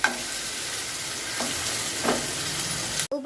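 Salted eggplant pieces frying in a pan while being stirred, a steady close sizzle broken by a few scraping stirs, ending in a brief clatter.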